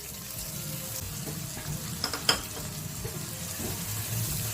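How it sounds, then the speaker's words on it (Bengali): Spice paste of turmeric, chilli, cumin, sugar and water going into a hot pan for potato curry, a steady hiss and sizzle with a short cluster of splashy clatter midway, close and unvoiced. "এবারে আমি হলুদ, লঙ্কা, জিরে, চিনি যেটা গুলে রেখেছিলাম জল দিয়ে সেটা দিচ্ছি"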